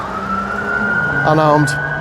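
An unmarked black police car's siren wails nearby as it passes on a street, a steady high tone shifting into a rapid warbling yelp, with a voice speaking briefly over it.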